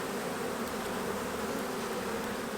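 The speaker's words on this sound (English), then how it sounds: "There's so many bees over here." Honeybees buzz in a dense, continuous drone, many close by at beehives and humming steadily without pause.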